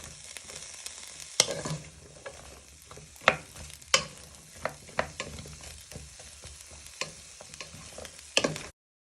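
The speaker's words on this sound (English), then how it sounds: "So just giving them a little toss so they go nice and brown and soft." Onions and garlic fry in a pan for a beef goulash, a steady sizzle broken by several sharp clatters and scrapes as the pan is tossed and stirred, close and fairly quiet, with no talking.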